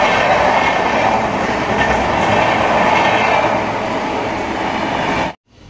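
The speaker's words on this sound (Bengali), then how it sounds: "তাই আগে ট্রেনটা দেখিয়ে দিই।" A train passes close by as one loud, continuous rumbling roar with rattling wheels, holding steady for several seconds before cutting off abruptly.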